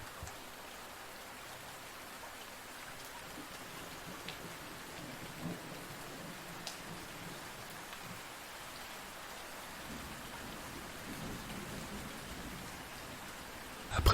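Steady rainfall patters across surfaces in an even, continuous wash with a few louder drops, fairly soft and without voices.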